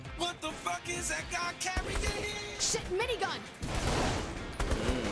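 Rapid bursts of gunfire from the video game Saints Row: The Third Remastered crackle in quick succession during co-op play, alongside excited voices talking over the action.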